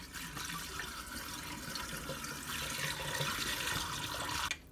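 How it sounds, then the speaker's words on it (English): Tap rinse water pours out of a Super 8 film developing tank into a sink, a continuous gurgling splash that builds slightly before stopping abruptly near the end. "Let's get that water out of there."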